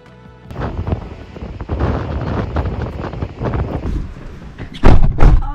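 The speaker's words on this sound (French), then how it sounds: "Le vent! Je crois que j'ai jamais ressenti du vent aussi fort." Powerful wind near Mount Cook, New Zealand, buffets the microphone in loud, rumbling gusts that rise and fall, peaking in heavy blasts near the end.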